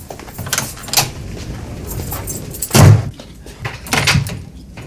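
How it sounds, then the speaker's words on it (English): A door closes with one dull, heavy thud in a domestic scene from the 2003 TV drama EastEnders, set among quieter shuffling and soft movement. "lock the door after I've gone"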